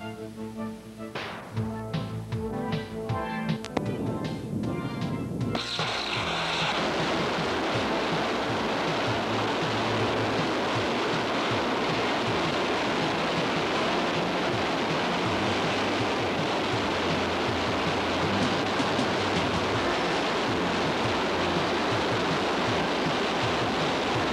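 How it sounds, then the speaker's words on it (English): Test firing of an XLR-1 liquid rocket engine, the same kind as in the X-1 rocket plane: a few seconds of mechanical clatter give way to a loud, steady, hissing roar that runs on unbroken. "This is an independent rocket systems assisted test firing of Ken Mason's XLR-1 liquid rocket engine"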